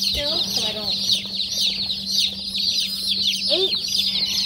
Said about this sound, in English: 10 little fluffy chickens